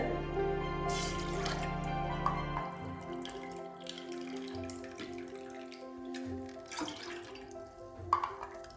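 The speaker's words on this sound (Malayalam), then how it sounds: "3 കപ്പ് വെള്ളം എടുക്കുന്നുണ്ട്." Water pours into a pot in a steady, ringing stream that gradually thins out, ending with a few faint drips, as water is measured out for gulab jamun sugar syrup.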